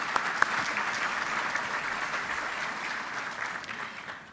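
An audience at a Medal of Valor ceremony in a hotel gives sustained applause, a dense, even wash of clapping that holds steady and tapers slightly at the end.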